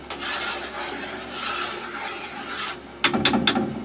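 Boiling maple syrup from a first batch of the season is stirred in a pan, making a continuous soft scraping and rasping, with a few sharper clinks from the utensil near the end.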